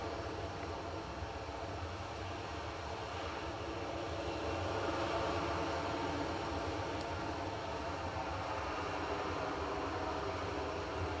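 Airplanes at Bristol Airport heard from close by make a steady, loud, broad roar that holds evenly and swells slightly midway, with no talking.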